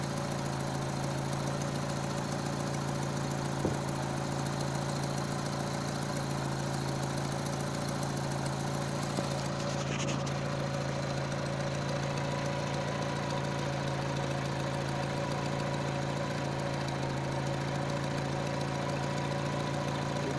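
A car engine idling while the car serves as a stand-in power station: a steady low hum with a fixed tone and faint vibration throughout, even and unchanging, no talking.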